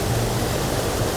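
Waterfall near Black Tor Copse, a steady, loud, broadband rush of falling water heard close up, continuous and unchanging with no other sounds.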